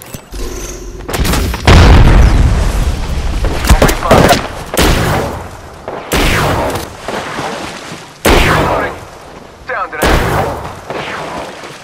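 Frag grenade blasts and heavy weapon booms in the battle royale game Apex Legends: several loud, deep explosions land in spaced bursts, each decaying into a rumbling tail, with character voices talking between them.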